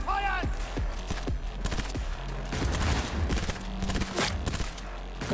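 Weapon fire in Cyberpunk 2077, dense rapid shots crackling over steady game noise, with a few sharp sweeping effects early on and continuous shooting throughout.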